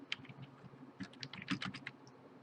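Computer keyboard typing while filling in spreadsheet cells, with quick irregular keystrokes in close, faint bursts and pauses between, ending on firmer key presses.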